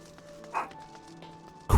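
A dog barks twice in a fantasy adventure game, one short bark near the middle and a louder, sharper one at the end, both over a soft, steady musical background.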